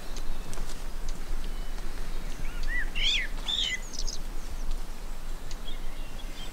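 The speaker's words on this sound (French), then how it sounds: "il n'y a que des petits oiseaux qui chantent" Small birds sing in a lush fern forest on La Palma, a few short high chirps and twittering phrases midway, moderately distant over a steady rushing background of wind or foliage, with no voices.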